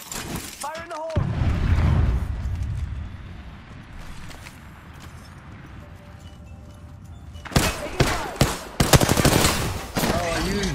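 Gunfire and explosive blasts from Apex Legends gameplay, with a sustained rumbling burst early on and sharp, loud gunfire bursts near the end, while players talk over the action.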